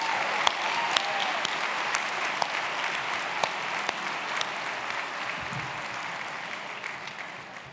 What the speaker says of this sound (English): please join me with a round of applause for our vocalists from the National Anthem